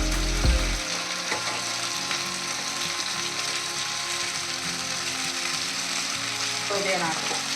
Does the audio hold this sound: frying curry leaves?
yes